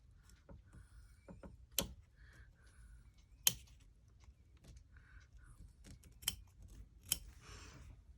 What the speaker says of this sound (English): just go ahead and trim that extra zipper tape off